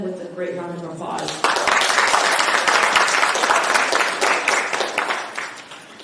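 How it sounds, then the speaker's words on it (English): A conference audience at a healthcare workforce summit breaks into loud, sustained applause that swells after a brief spoken introduction and then slowly fades. "please welcome them with a great round of applause"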